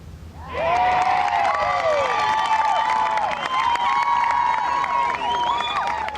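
A golf crowd at the 2011 Solheim Cup bursts into sustained applause, cheers and whistles that rise quickly and hold loud for several seconds.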